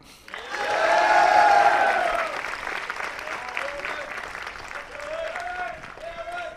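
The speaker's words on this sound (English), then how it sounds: "boys, you need to give them a round of applause" At a military academy commencement, an audience gives a round of applause that swells quickly, stays loud, then eases off as a voice speaks over the fading clapping.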